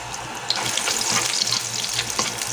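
Garlic and onion sizzling in a hot pan as they are sautéed, a dense steady frying crackle with occasional stirring scrapes and sharper pops.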